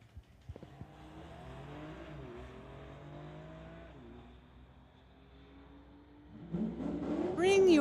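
Two cars, a Volvo and a Porsche, drag racing at Mission Raceway's strip: a steady engine drone with shifting pitch builds, then loud revving rises near the end as the cars launch and pass.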